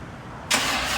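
A Chevrolet C10 with a 400 small-block V8 cranks quietly, then catches with a sudden roar halfway through and keeps running loudly.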